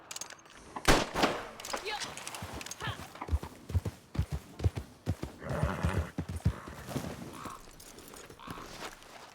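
A horse's hooves clop unevenly in Red Dead Redemption 2, close and loud, with a whinny as the animal veers into a wall and a voice speaking over the scuffle.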